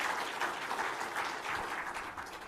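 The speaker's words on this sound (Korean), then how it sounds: "일단 박수로 환영해 주시길 바랍니다." Audience in a church gathering applauding to welcome a lawyer as speaker, a brief even burst of many hands clapping at moderate distance, steady throughout.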